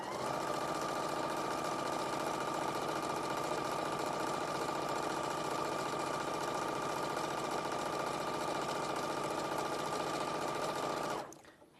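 A sewing machine stitches fabric in one continuous steady whir with a mechanical hum, close and constant for about eleven seconds, then stops abruptly.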